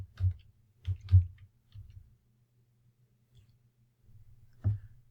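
Plastic keys on a TI-84 calculator click in a few quick, close presses, then pause, with one more sharp press near the end. Nobody speaks.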